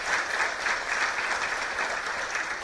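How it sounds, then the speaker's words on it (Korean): Sustained applause from an audience at a policy forum on student safety, honoring school principals; even, continuous clapping at moderate distance with no talk over it. "교장 선생님들 위해서 큰 박수 한번 좀 보내주셨으면 좋겠습니다."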